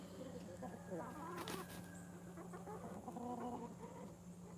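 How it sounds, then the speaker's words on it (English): Chickens standing in water in a Georgia yard cluck softly in scattered, overlapping bursts at a moderate distance, over a steady low background hum and rustle. "Them chickens is just staying in that water over there."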